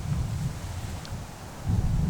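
Cool wind blowing outdoors on a rocky outcrop, a steady low rumble of gusts against the microphone that swells near the end, with no talking.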